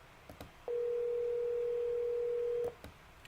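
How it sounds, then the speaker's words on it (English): A steady telephone tone sounds while a call is being placed, holding one flat pitch for about two seconds, loud and close, with a few faint clicks before and after it. "Dorsey, I'm calling you right now, man"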